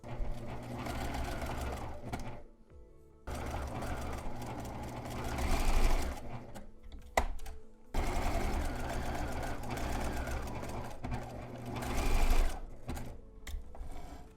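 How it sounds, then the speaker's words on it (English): Close, loud sewing machine stitching down the folded edges of a homemade cloth face mask: several long runs of rapid mechanical whirring, separated by brief pauses where the machine stops. "And we're going to sew this down."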